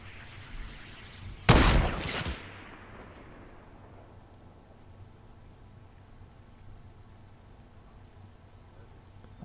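A single sharp burst of Fortnite gunfire cracks out loud near the start, with a brief echoing tail before fading into quiet game ambience; a faint click sounds at the very end.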